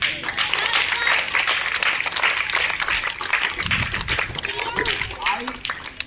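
Students in a classroom clap together in a dense round of applause that fills the room, with voices talking over it and the clapping fading toward the end.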